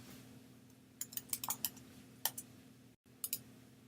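Keys tapped on a computer keyboard while a username and password are entered: irregular bursts of light clicks, closer together in short runs, with pauses between them, over faint room hum.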